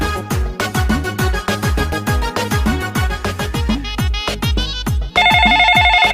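A phone rings during an outgoing call about a broken engine: a loud, rapid, repeating electronic ringtone pattern that turns into a steady sustained tone near the end.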